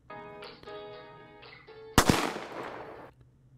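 A single sharp gunshot cracks out in a music video, cutting across sustained tonal music and trailing off in a short decaying burst.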